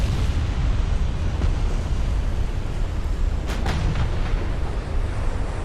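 A torpedo strikes a warship in the naval battle game Ultimate Admiral: Dreadnoughts, producing a rolling explosive rumble that stays loud and continuous, with a few sharper cracks partway through.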